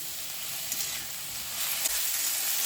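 Bathua greens chorchori sizzles in a pan over a raised gas flame, a steady close hiss of frying with a couple of faint stirring clicks.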